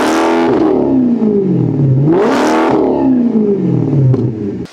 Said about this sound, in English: They cleaned up the tone, added exhaust gas velocity where it was needed, and gave it a deeper, more exotic growl without sounding like a cheap V8 swap.